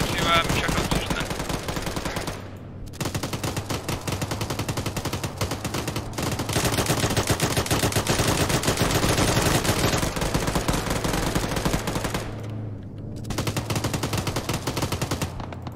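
Sustained automatic gunfire in the military shooter ArmA during a campaign battle, loud and dense with rapid bursts from several weapons, brief lulls around the third and thirteenth seconds, constant and close.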